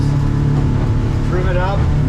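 A red 2021 Searunner 190 boat's engine drones loud and steady, rising slightly as it accelerates across choppy water, with wind and hull noise constant throughout.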